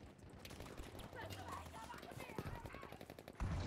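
Gunfire in the Battlefield V video game, rapid repeated shots and bursts in a busy battle mix, moderately loud under someone talking.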